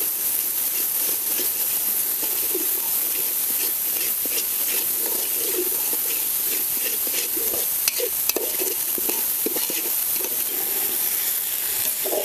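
Wet grated-coconut paste roasting and being stirred in hot oil for a spicy fish curry, a steady close sizzle with repeated scraping stirs running throughout, no voices.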